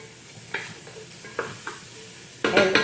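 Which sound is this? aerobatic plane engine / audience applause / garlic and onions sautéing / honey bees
garlic and onions sautéing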